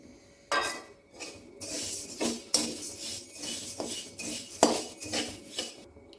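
Cinnamon, cloves and coriander seeds are dry-roasted in a pan for sambar powder, with a spatula scraping and clinking against the metal in uneven, close strokes and no talking.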